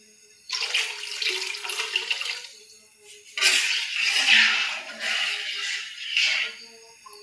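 Water is poured into a pot of potato and lentil curry in bursts, a splashing gush starting and stopping a few times, close and fairly loud with no talk.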